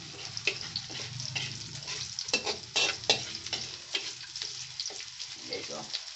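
Red and white onions with garlic sizzle in a pan while a spoon stirs them, giving a steady close frying hiss broken by scraping and clattering strokes.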